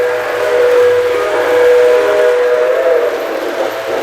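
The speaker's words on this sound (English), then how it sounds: "And again, the horn." Whistle-like horn of a 1940s O-gauge model train running on wide 72-inch track, a steady sustained tone held for about four seconds with a slight wavering pitch.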